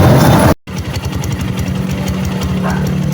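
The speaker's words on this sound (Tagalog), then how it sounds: "umandar na ating makina" A Rusi KRY200 motorcycle, just repaired after a faulty CDI, starts up: after a brief loud burst and a short gap, its single engine settles into a steady, close, rhythmic idle that chugs on evenly.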